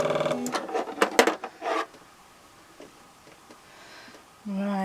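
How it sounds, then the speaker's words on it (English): A sewing machine runs in short rapid bursts of small zigzag stitching on potato sacks, close and fairly loud, then stops; a quieter whirr resumes at the end. "which is a small zigzag on my sewing machine"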